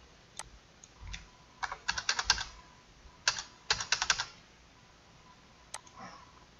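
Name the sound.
typing numbers on a computer keyboard into a calculator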